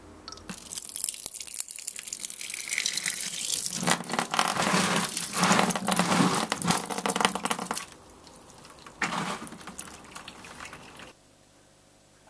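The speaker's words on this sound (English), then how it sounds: "Now I'll run the bitter wort, which is chilled and cooled down to less than 30," Chilled bitter wort for a homebrewed Punk IPA-style real ale pours into a primary fermentation bin. The rushing, splashing flow is loud and close, falters partway through, resumes briefly, then stops.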